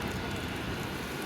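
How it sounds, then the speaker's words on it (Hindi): Rain falls on a street on a cold day in Canada as a faint, steady hiss of drops, brief and continuous with no voices. "और ये कि बारिश हो रही है"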